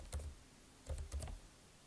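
Several soft keystrokes on a computer keyboard while typing an image address, in small bursts, quiet and fairly close.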